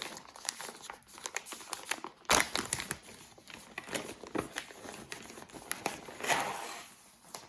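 Crinkly plastic packaging of a cross-stitch embroidery kit being opened by hand, with irregular crackling and rustling bursts and one sharper tear, fairly quiet and close, no voices.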